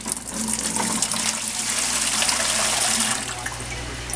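Water from a pitcher pours into a bucket, a continuous gushing splash that runs steadily for about three seconds and then tapers off.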